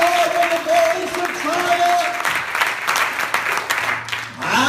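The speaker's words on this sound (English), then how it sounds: "If you've been baptized in Jesus' name, I want you to clap your hands" A church congregation claps hands during a Kids Week service, dense applause with crowd noise mixed in. Sung or spoken voices ride on top.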